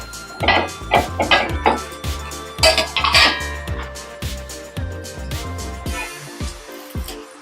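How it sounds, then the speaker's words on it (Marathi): A metal lid lifted off an appe pan of cooking rava batter, with a series of sharp clanks and clinks of metal against metal, close and fairly loud, followed by a softer sizzle. "एक दोन मिनिटांनी आपण ते झाकण काढूया"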